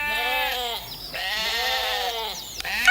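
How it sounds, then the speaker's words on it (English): Sheep bleat in long, wavering calls, two or three overlapping near at hand on a farm, with no talk over them. "Look at those sheep."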